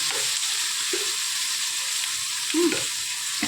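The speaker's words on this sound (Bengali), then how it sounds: "এর মধ্যে ভালো করে এটা ভাজা ভাজা হবে।" Whole green chillies fry in oil for chilli fish, giving a steady close sizzle broken by a few soft stirring scrapes and bubbling pops.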